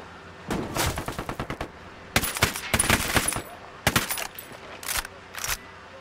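Bursts of automatic gunfire in the Ghost Recon Wildlands video game, several rapid volleys of sharp, loud shots in clusters with short gaps between them, and no talking.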